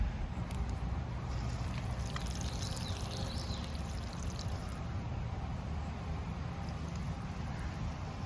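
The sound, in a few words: water flowing through a spring box siphon valve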